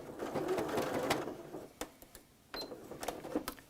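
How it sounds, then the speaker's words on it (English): A sewing machine stitches down a potholder seam in short, quiet bursts of rapid clicking whir, stopping and starting with brief pauses between runs. "we're gonna sew down to where that fold is here"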